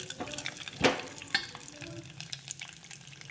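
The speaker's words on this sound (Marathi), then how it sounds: "सगळे ड्रायफ्रूट्स टाकले, छान परतून गोल्डन कलर येईपर्यंत, सोनेरी कलर येईपर्यंत" Dry fruits sizzle softly while being roasted in a pan until golden, with a couple of sharp spoon scrapes and stirring knocks rising over a low, steady frying hiss.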